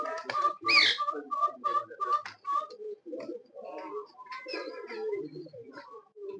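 Teddy pigeons, part of a champion pigeon keeper's flock, coo and whistle in short warbling calls close by, with a few soft breathy notes following.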